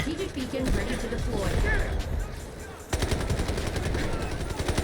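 Rapid automatic gunfire in the Delta Force shooter game, dense bursts running throughout under a player's voice talking over the action.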